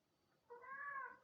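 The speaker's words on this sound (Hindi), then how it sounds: "वो कैट यॉलिंग." A cat in heat lets out a single drawn-out, rising yowl that sounds much like a crying baby, faint and fairly distant, starting abruptly after a quiet moment and holding for under a second.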